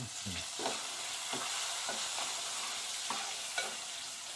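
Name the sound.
onion frying in oil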